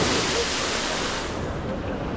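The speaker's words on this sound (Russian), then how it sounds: "Черное море – это мощь." Black Sea surf at Kobuleti, Georgia, washing steadily onto the shore in a loud, continuous broadband rush with no distinct breaks, heard up close without any talking.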